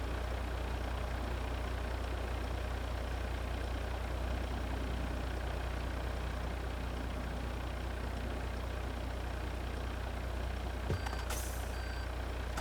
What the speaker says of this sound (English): It sounds like a petrol engine idling.